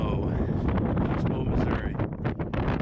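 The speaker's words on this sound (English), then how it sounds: "Blustery day today." Blustery wind on Oxbow farm in Missouri buffets the microphone in heavy irregular gusts, loud and rumbling throughout, with a voice speaking under it.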